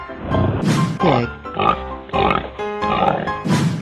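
A cartoon pig in a 3D animal slide game lets out several loud, rhythmic oinks and grunts in close succession, with no talking.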